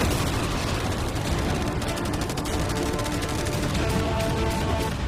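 Dense, continuous barrage of rapid machine-gun fire and booming cannon blasts, loud and chaotic throughout, with no pauses or speech.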